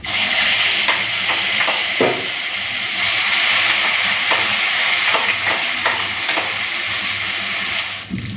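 Green banana peel paste hits hot oil with nigella seeds and dried red chilli already fried, hissing and sizzling loudly up close while a spatula scrapes and stirs the pan.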